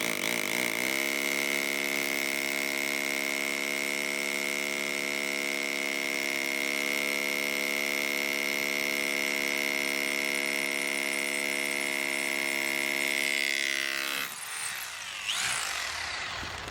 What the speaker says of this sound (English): we're going to switch to hammer drill